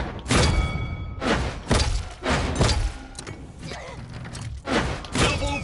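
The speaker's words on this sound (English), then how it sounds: "So, that's the Grumpy Bomb right there." Repeated heavy explosions and thuds from the Grumpy Bomb in the video game Paladins, loud booming bursts with crackling debris about every second, amid dense game effects and no talk.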